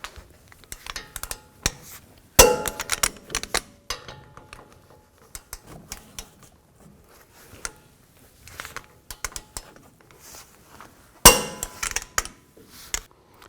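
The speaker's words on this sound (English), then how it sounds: "now we're going to torque those bolts to 130 foot-pounds" Metal tools clink and clatter while a torque wrench tightens the brake caliper bolts on a 2009-18 Ram 1500: scattered sharp taps and two loud clanking bursts spread across a quiet garage background.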